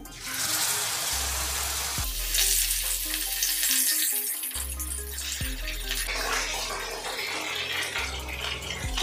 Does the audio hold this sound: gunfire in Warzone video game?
no